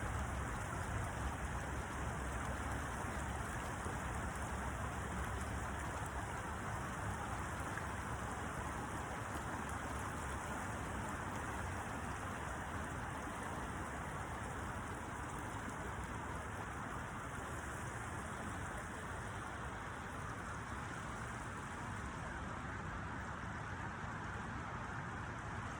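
A river running high and strong after heavy rain and late-season snow gives a steady, broadband rushing roar that holds evenly for the whole stretch, close and fairly loud, with no voices over it.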